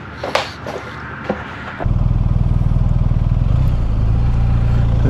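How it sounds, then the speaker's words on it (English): A motorcycle engine fires up after some handling clatter, then settles into a loud, close, steady idle with a rapid even throb for a ride through the Isles of Capri in Southwest Florida. "Let's get on the bike and ride."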